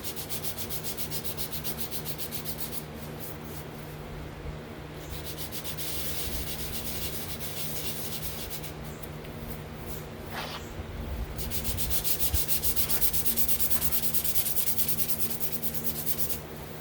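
Sandpaper scrubs back and forth across a car fender before painting, a dense, continuous abrasive rasp held up close and steady throughout, with a slight swell in intensity toward the end.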